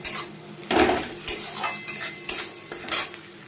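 Onions fry in a pan for a Bengali pointed-gourd mash, with repeated metal spatula clanks and scrapes against the pan over a light sizzle.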